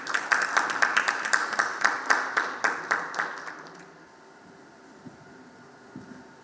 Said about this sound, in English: Please welcome Mr. Dipendra with a round of applause